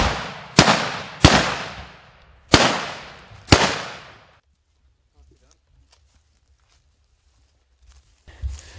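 Four loud Ruger handgun shots crack out close by at a charging buffalo, each sharp report followed by a short decaying echo, then near silence with faint rustling.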